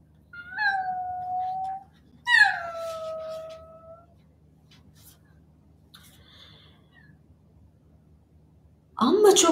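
A cat gives two long, drawn-out meows, each rising then falling, with quieter sounds between them and a sudden louder burst at the end, heard during a storytelling of a tale about a cat and a mouse.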